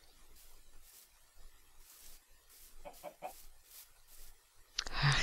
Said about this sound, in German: Ach, diese Gackergeräusche.